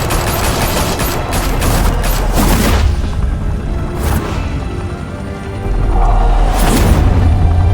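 Loud gunfire erupts in the Batman Telltale video game, a dense fusillade of rapid shots and booming blasts layered over each other, with sharp bursts breaking through again near the end.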